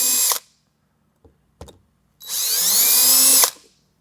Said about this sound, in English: take my drill bit that I'm going to be using and just make my holes like so